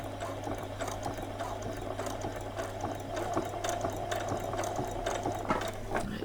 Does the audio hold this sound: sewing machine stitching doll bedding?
yes